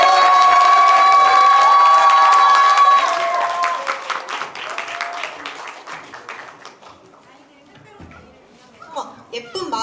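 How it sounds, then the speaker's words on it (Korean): A crowd applauds after a performance at a community town-hall gathering in Naseong-dong. The clapping rises loud out of the tail of the music, then thins into scattered claps and crowd chatter. "다시 한번 큰 박수 부탁드립니다."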